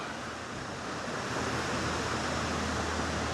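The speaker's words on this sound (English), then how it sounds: "we have got a little bit of wind now" Steady wind blowing outdoors beside a lake, a continuous broadband rush that swells slightly and holds loud and even throughout, with no voices.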